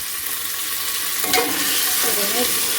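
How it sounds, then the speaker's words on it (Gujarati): Onion, potato, tomato and peas sizzle in a hot tempering, a steady close hiss with a brief stirring clatter in the middle. "મસ્ત વઘાર થઈ ગયો છે ડુંગળી બટેટા ટમેટા ને વટાણ"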